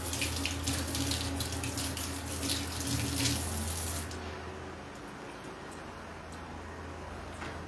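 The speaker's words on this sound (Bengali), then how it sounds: "তো হাতটা ধুই।" Hands are washed under a running tap at a sink. The water hisses steadily and closely, with splashing that shifts and softens partway through as the hands move under the stream.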